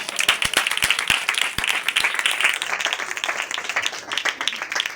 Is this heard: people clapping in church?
yes